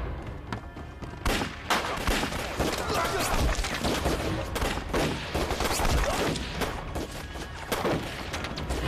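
Dense gunfire in a war film: heavy, continuous volleys of overlapping shots and thuds fill the whole stretch, loud and relentless, with voices barely audible beneath.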